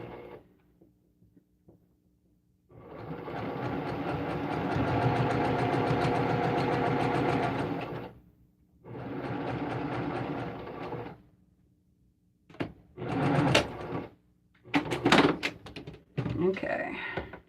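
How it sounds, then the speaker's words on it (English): Sewing machine stitching a Northern Lights jelly roll quilt panel: two long runs of steady whirring stitching separated by a pause, then a few short bursts and thunks. "I'm just going to sew this standing up because I don't have a very big piece anyway."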